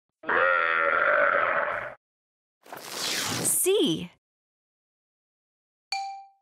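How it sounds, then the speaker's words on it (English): A camel gives a long, deep, throaty grunting bellow, then a second rougher groan that rises into a gurgling squeal, followed by a brief tonal beep, all close and loud. "C is for camel."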